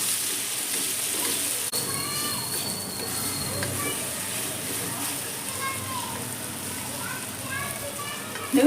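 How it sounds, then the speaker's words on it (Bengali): Grated amla being stirred and pressed with a spoon in hot oil, a steady, fine sizzling crackle that stays loud throughout, with faint clinks of the spoon on the pan. "তেলের মধ্যে আমি আমলকিটাকে দিয়ে খুব ভালো করে একদিকে নাড়ছি"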